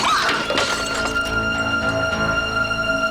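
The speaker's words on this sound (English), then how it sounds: "a nearby skull suddenly flies off the shelf, barely missing Sam as it smashes into the wall" A skull knocked off a shelf and smashing into a wall in a Quantum Leap scene, a loud shattering crash at the start that decays under a sustained tonal music bed.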